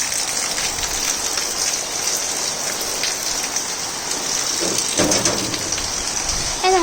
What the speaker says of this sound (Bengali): দেখেন কীরকম বৃষ্টি হচ্ছে